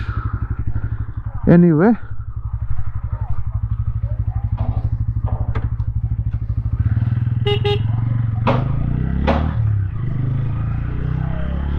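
A Bajaj Pulsar N160 motorcycle idles nearby with a steady rhythmic throb that deepens and grows louder partway through, while someone talks over it and a short tonal beep sounds early on.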